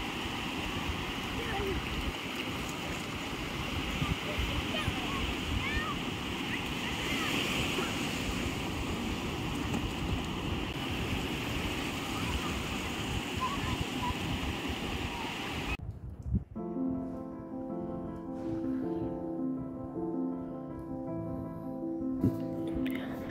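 Sea waves at Mandarmani beach surge and wash continuously with a broad, rushing roar and some wind noise, cutting off near the end where a tonal music-like sound takes over.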